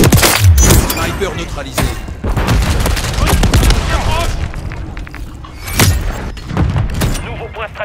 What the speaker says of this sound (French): Je lance une grenade! Semtex lancé!